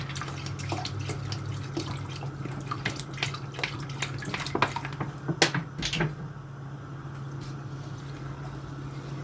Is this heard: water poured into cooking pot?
yes